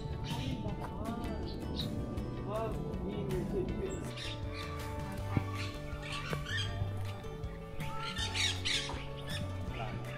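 Loud, insistent bird squawks repeat over about ten seconds outdoors on a trip to Poland, with several calls overlapping against a constant ambient hum.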